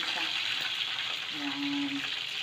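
Food fries steadily in hot oil in a pan, a constant crackling hiss with a brief low tone rising partway through.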